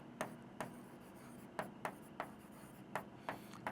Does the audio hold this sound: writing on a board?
yes